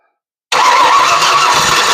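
An old Ford 460 V8 that sat unused for 30 years bursts into life after a silence and roars loudly and continuously, running rough with a squealing edge.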